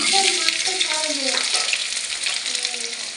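Chopped onion sizzles steadily and loudly in hot oil that already holds a panch phoron tempering with bay leaf and sugar. A voice speaks over the frying early on.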